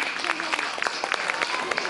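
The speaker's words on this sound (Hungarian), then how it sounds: "Szeretném, hogyha egy nagy-nagy tapssal jutalmaznátok Lacit és az ő hangszereit" Audience applause at a children's concert, a dense, steady patter of many hands clapping close by for the full two seconds, with some crowd voices mixed in.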